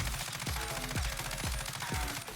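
Automatic weapon fire in the game Warzone, four evenly spaced heavy shots or bursts about half a second apart over a steady rattling background, moderately quiet.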